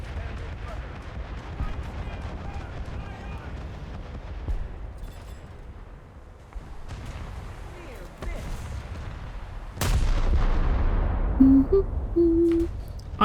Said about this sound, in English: Something shooting at me